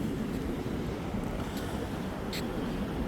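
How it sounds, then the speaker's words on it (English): Strong wind buffets the microphone on a winter beach near a pier, with a steady roar of ocean waves beneath it. The noise is continuous and dense, and no voices are heard. "It is currently 51 degrees, very, very windy, and you can see the waves."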